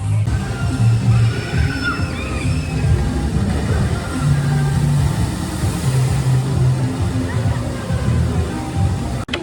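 Water rushing and splashing at the drop of a log flume ride at a theme park, a loud continuous sloshing wash with mechanical rumble beneath and faint voices in the background.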